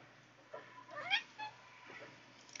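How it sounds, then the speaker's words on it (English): A house cat meows indoors, a few short close calls over a quiet background hum, alone with no talk. "You will hear we now have a visitor. One of my cats has decided to come and say hi."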